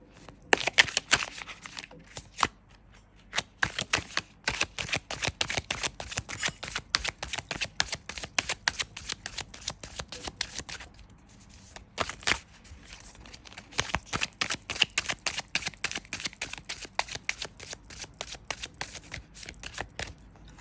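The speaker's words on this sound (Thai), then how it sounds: "เริ่มสับไพ่กันเลยนะคะ" Tarot cards shuffled by hand up close, a long run of rapid riffling flutters and soft slaps in repeated bursts with brief pauses between, no talk.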